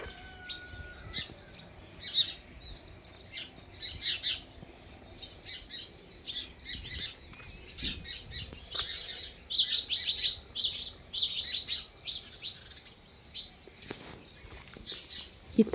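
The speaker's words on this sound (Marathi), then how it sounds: "त्यामुळे ह्या पक्ष्यांचा केवढा आवाज येतोय" Many birds chirp and call from mango and jamun trees beside a house at a village fair, with a dense, continuous chorus of tweets and squawks building louder toward the end, no talk over it.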